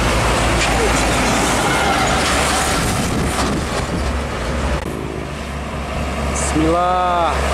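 Heavy tronton trucks rumble past on a busy Pantura highway near Brebes, a steady loud roadside roar of traffic with a horn-like tonal blast near the end; voices talk over it.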